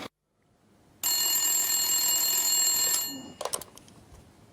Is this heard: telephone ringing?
yes